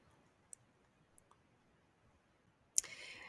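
A computer mouse clicks faintly a couple of times on an online bookstore checkout page, then gives one sharper, louder click followed by a short burst of soft noise in a quiet room.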